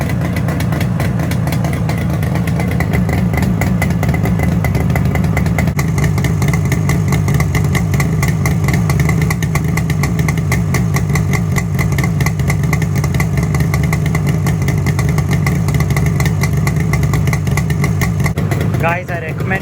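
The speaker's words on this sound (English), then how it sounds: "That was the sound of the Rd 350." A restored Yamaha RD 350 two-stroke motorcycle idles at close range, its exhaust crackling in a steady, uneven burble with a slight clatter that runs unbroken for about twenty seconds.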